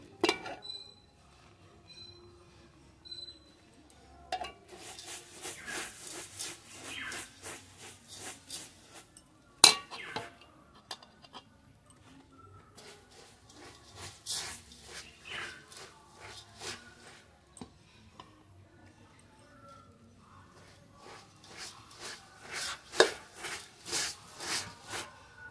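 Puffed rice and popped rice are worked together with jaggery for a Durga Puja sweet. Faint, scattered crisp rustles and light clinks come in uneven bursts, with no talk.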